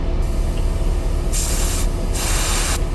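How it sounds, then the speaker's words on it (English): Refrigerant can venting to purge the charging line of a Shuttlewagon's AC system, two loud sustained hissing bursts close by over a steady background drone, with no talking. "I will open this can up. Which will charge this line, but we got to purge it."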